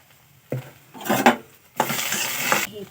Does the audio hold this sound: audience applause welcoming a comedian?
no